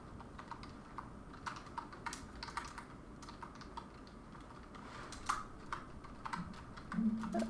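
Quiet, irregular clicking of a computer keyboard as someone types during a video game, with rapid keystrokes continuing throughout and a few slightly louder taps.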